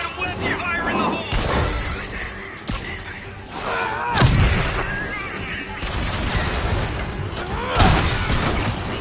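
Loud explosions and shattering blasts in the Marvel's Spider-Man video game, with several booming bursts amid debris and game effects while voices talk over the action.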